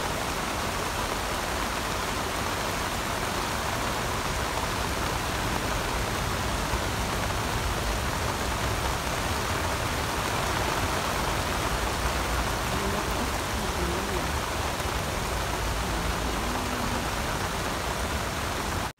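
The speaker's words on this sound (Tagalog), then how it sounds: "Lakas ng ulan" Steady, dense roar of heavy rain, loud and unbroken throughout, with no voices.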